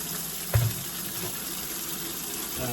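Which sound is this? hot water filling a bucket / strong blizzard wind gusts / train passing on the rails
hot water filling a bucket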